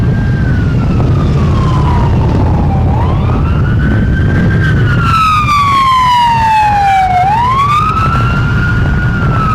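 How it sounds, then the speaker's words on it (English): A loud, close ambulance siren wails as it passes through traffic, rising and falling in slow sweeps, with engine rumble underneath. "there's an ambulance coming through"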